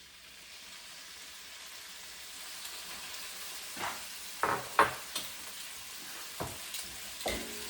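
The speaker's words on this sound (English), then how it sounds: "So I'm going to drop in this beef first." Beef dropped into a hot pan with garlic for a cabbage stir fry, a soft steady sizzle that rises and crackles with several louder spitting pops as the meat is stirred.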